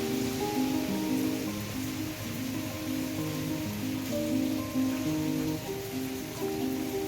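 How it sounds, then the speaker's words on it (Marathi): Steady rain falls over farm fields during ploughing season, a dense continuous patter heard alone and up close, with no voices. "पाऊस पण आलाय"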